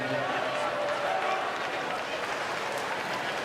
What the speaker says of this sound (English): All those backstrokers need a round of applause